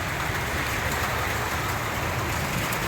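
Heavy typhoon rain pours in a dense, unbroken roar, loud and close, with a faint hum of road traffic beneath and no voices.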